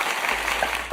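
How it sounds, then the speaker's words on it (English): A canned applause sound effect fired from a button on a hip-hop podcast plays as a short, fairly soft burst of crowd clapping under a low steady hum. "Got the applause. Yeah, I hit the right button this time."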